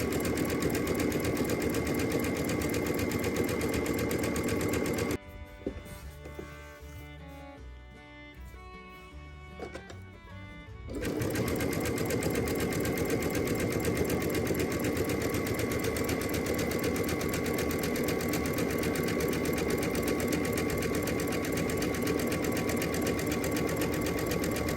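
A sewing machine stitches a lettuce hem with a loud, fast, steady mechanical whirring and needle clatter close by, pausing for a few seconds midway before running again continuously.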